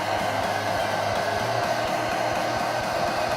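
A heat gun blows hot air onto plastic wrap, a loud, steady, unbroken close whirring roar with a low motor hum throughout.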